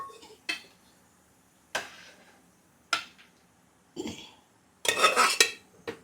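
A spoon scrapes and clinks against a pot while tapioca is stirred into beef curry, five separate stirring strokes spaced about a second apart, the last one longer and busier.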